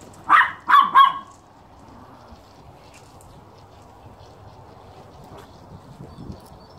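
A dog gives three quick, sharp barks close by, then falls silent, leaving a quiet outdoor background with faint distant sounds.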